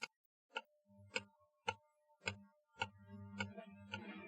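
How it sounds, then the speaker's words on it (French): Pendulum clock ticking steadily in a quiet dormitory, about eight evenly spaced ticks with a soft low knock under each, growing slightly busier toward the end; no voices. "voici le calme et le silence du dortoir paisible que rythme le balancier de l'horloge"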